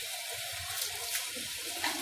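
Thin stream of water running from a bathroom tap during a nighttime skincare routine, a steady soft hiss and trickle heard alone and fairly faint throughout.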